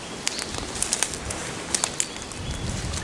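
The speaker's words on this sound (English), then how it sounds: "Spring, everything's blooming, the birds are singing." Birds call on a spring creekside hike, giving a scatter of short, sharp chirps and coos at moderate distance over soft outdoor background, with a few brief bursts that sound like flapping wings.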